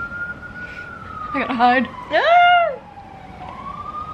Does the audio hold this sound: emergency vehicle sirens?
yes